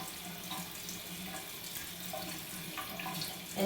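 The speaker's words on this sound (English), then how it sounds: "Rinse some of that makeup off." A tap runs steadily into a sink while a makeup brush is rinsed clean of makeup, a continuous close splashing flow with slight shifts in the spray and no voices.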